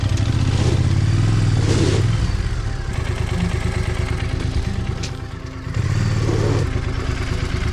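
An old Triumph Scrambler motorcycle revving hard with its rear wheel buried and stuck offroad, the loud close engine surging and falling in repeated bursts with rattling clatter.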